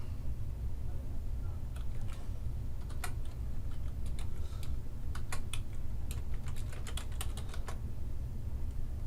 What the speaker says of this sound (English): I'm going to type in a video